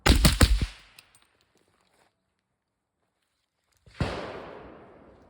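A suppressed 9mm handgun fires 150-grain Fiocchi ammunition through a suppressor: a quick cluster of loud, close shots, a silent gap of about three seconds, then one more sharp report with a lingering tail.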